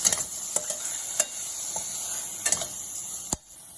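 Tomato and curry-powder masala cooking in a covered pan, with faint steady sizzling and a few soft clicks and taps of a lid or spoon, quiet and close, no talking.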